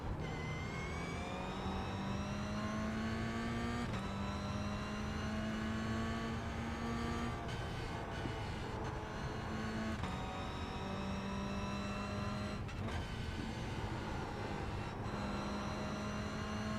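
Formula Vee race car engines in iRacing at the Nürburgring, a steady droning whine that rises in pitch through the gears with brief drops at shifts, sustained and fairly loud with no talk.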